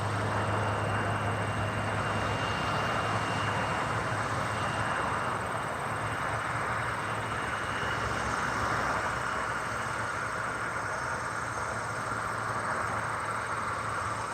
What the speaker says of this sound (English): Zoom back into the CRJ, the race to Chicago.